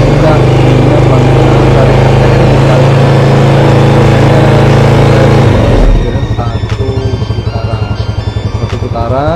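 A Yamaha Jupiter Z motorcycle engine runs close by during carburetor tuning, revving hard with a loud buzzing drone before dropping to a lumpy, pulsing idle, while someone talks over it.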